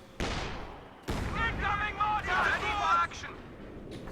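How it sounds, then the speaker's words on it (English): A 120mm heavy mortar in a video game fires twice, two sharp booms close together near the start, with a commentator talking over them. "Oh, is that a heavy mortar in fact?"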